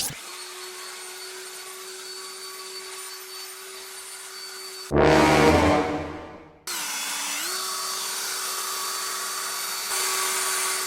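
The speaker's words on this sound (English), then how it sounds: "We got a Ford Raptor cleaned with a leaf blower." A leaf blower blasts snow off a Ford Raptor truck, a steady loud whine with a steady hum beneath, broken midway by a brief, harsher roaring burst before the even blowing resumes.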